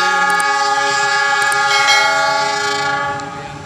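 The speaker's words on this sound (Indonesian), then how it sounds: "Semboyan panjang, semboyan 35 yang panjang dari masinis." A CC206 locomotive sounds a long, loud, sustained horn blast as a railway signal, steady throughout before fading slightly at the end, with no talk over it.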